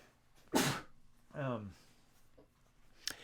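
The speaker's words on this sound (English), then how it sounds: "I'm going to sneeze" A single sharp sneeze bursts out close by, followed by a brief voiced sound and a short noisy exhale moments later.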